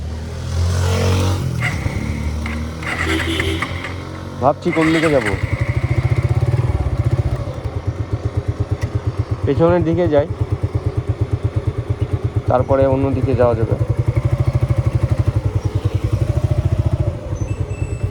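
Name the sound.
Suzuki Gixxer motorcycle being ridden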